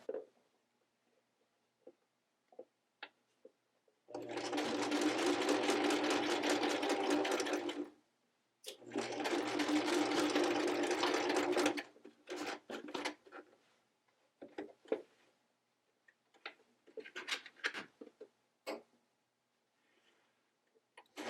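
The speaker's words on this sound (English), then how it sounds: "And then you'll sew down the other side." Sewing machine stitching a seam on denim jeans, two long steady runs of rapid whirring stitches close up, each a few seconds, followed by short bursts, clicks and handling of fabric, with no talking.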